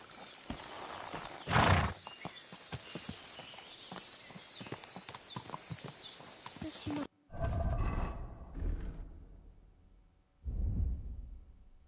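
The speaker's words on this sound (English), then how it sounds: "Must be the ugliest horse I've seen in my life." Hooves clip-clop on ground in Kingdom Come Deliverance 2, a steady patter with a few louder snorts or whinny-like bursts, alongside distant game ambience and brief talk.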